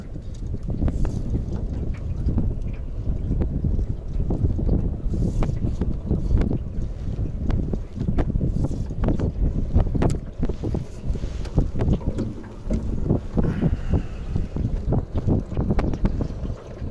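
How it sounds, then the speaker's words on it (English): Wind gusts buffet the microphone on a lake during spring fishing from a boat, a loud rumbling roar with knocks and water slaps against the hull, continuous and close. "A little windy today."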